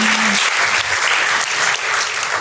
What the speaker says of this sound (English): I think she deserves a clap.